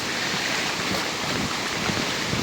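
Strong cyclone wind roars steadily over a flooded village during heavy rain and tidal surge, a dense, loud, unbroken rush of air and water with no pauses.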